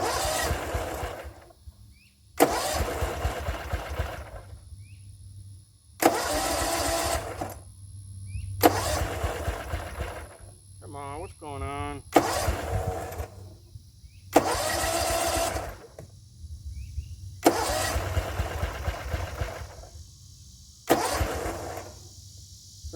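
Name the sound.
Gravely 34z mower engine cranking, failing to start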